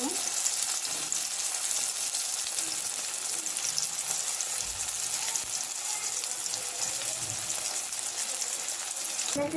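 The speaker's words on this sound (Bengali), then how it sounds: "যে বেগুনগুলো ভাজি করে নিচ্ছি" Eggplant slices frying in oil give a steady close sizzle throughout, with a faint trickle of running water and occasional soft kitchen clatter in the background.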